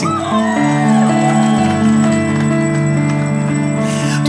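A bright notification bell chime rings out with sustained ringing tones, loud and up front, repeating in a short layered jingle over a steady background.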